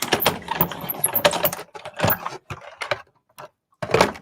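A die cutting machine cuts a stencil template indoors, giving a dense run of clattering, scraping mechanical noise for about a second and a half, then separate short bursts with quiet gaps between them.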